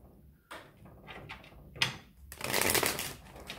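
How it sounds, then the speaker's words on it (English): A deck of tarot cards is shuffled at close range, with soft riffling and tapping, a few sharp knocks, then a dense burst of card flutter toward the end. "Okay, two more shuffles for Taurus, please."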